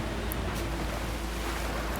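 Wind and sea waves in the game Trailmakers, a steady broadband wash of surf and blowing wind with a low rumble underneath, continuous and fairly loud throughout, no voices.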